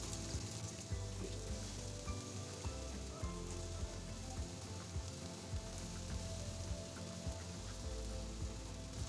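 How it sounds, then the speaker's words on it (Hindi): Urad dal dahi bara dumplings fry in hot oil with a dense, even crackle like rain on a surface, continuous and fairly quiet throughout. "बस इसको भी इसी तरीके से हम फ्राई कर लेंगे"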